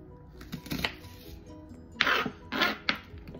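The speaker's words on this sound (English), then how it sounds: "we're gonna go ahead and cut up our onion" A knife chops a small onion on a cutting board, with a few soft cuts early on followed by three louder, crisp chops close by.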